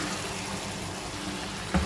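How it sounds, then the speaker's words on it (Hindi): Leftover marinade water, rinsed from the yogurt marinade bowl, splashes into a pan of cooking chicken tikka as a steady liquid pour with a brief bump near the end, with no talk. "मैरिनेशन जो बॉल था उसके अंदर थोड़ा सा पानी डाल के ये पानी भी मैं इसमें डाल दूँगी"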